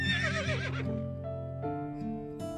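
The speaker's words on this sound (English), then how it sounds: "I'm waiting to see the horse rise out of the water" A horse in an RPG Maker game whinnies as it rises out of water, a wavering high neigh at the start that fades into sustained musical tones from the game's soundtrack.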